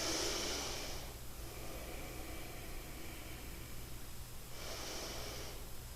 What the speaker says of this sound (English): continue your ujjayi breathing.